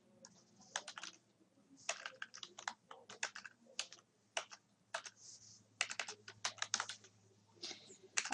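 Quick, irregular clacking of keys on a computer keyboard, typed in bursts with short pauses, close and fairly quiet.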